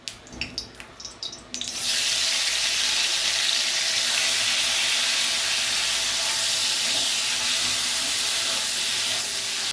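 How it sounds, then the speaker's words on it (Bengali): Prawns drop into hot mustard oil with a few knocks, then a loud, steady sizzling hiss fills the rest, close and continuous without talk. "এবার আমি চিংড়ি মাছগুলো দিয়ে দিচ্ছি।"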